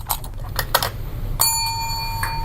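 A service bell on a counter is tapped several times, giving short metallic dings, and the final strike rings out clearly with a sustained, fading tone.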